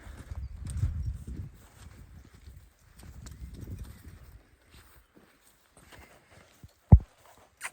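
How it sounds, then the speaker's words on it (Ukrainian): A draft mare's hooves clip-clop at an unhurried walking pace in two stretches while pulling a cart, then fade to near silence before a sharp knock. "Кобила йде сама."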